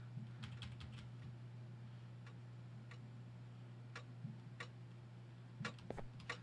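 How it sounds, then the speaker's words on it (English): A clock ticks faintly in a quiet room, sparse irregular clicks over a steady low hum, distant and soft with no voices. "I'm hearing a clock."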